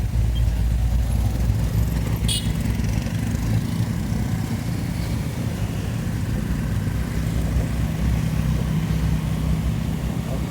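Heavy road traffic at Rangkhlan in Diphu, Karbi Anglong, forms a continuous low drone of nearby idling and moving engines, steady and fairly loud for the whole stretch.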